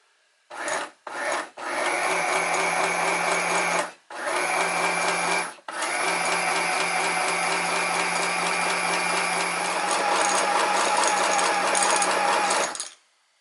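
A Janome mini sewing machine runs under foot-pedal control, giving a steady, buzzy mechanical whir in several continuous bursts separated by short pauses, close and fairly loud.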